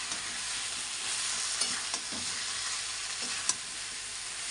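Chicken being kosha-fried, stirred together in a pan with masala, a constant bright sizzle with occasional spatula scrapes and taps, close and steady with no voices.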